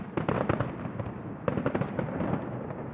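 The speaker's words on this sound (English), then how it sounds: "all the fireworks going off there" Fireworks bursting over Sydney Harbour near the Opera House at the end of a show, a dense, continuous barrage of loud cracks and pops layered over a rumbling roar, with no talk.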